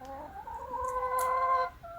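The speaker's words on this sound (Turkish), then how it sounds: "Buraya salıyor dayım tavukları." Free-range village hens in Akçakoca on the Western Black Sea coast give drawn-out, warbling clucks, close and fairly loud against quiet outdoor background.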